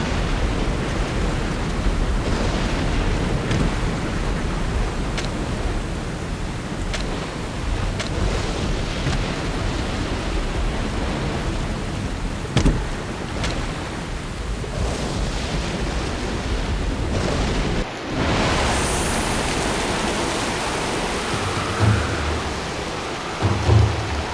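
A heavy storm rages in the video game Treasure Island: steady loud rain and wind with rolling thunder throughout, a brief dropout near the end, then rain continuing with a few low thumps.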